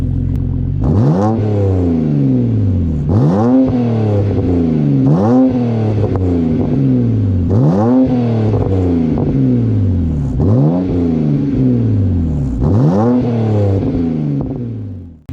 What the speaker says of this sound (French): si on écoute ça au ralenti, l'auto a fait juste tourner en ce moment. Un beau petit son